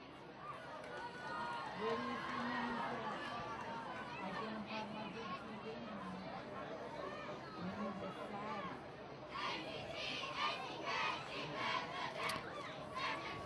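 Crowd noise at a high school football game between Haddonfield and Haddon Township, with cheerleaders shouting rhythmic chants amid steady crowd chatter, then louder cheering rising near the end, heard under a commentator's voice.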